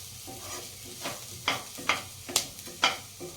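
Vegetables for hot and sour soup being stirred in a hot pan, with a steady low sizzle and several scraping strokes of a spoon, close and moderately loud, no talking.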